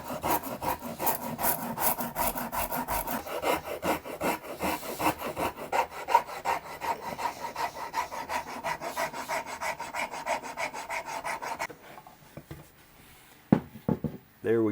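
Hand carving a bevel into a wooden guitar body, rapid rhythmic rasping strokes of a tool scraping wood, close and continuous for about twelve seconds before a pause and a few isolated scrapes.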